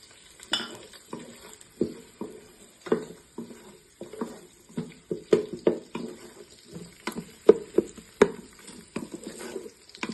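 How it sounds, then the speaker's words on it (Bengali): Chopped onion frying in hot oil inside a rice cooker, with a soft steady sizzle broken by irregular scraping and stirring clatters of a utensil against the pot, close and moderately loud. "আমি এই পর্যায়ে তেলটা গরম হয়ে গেছে, আমি এখন পেঁয়াজ কুচিটা দিয়ে নিচ্ছি।"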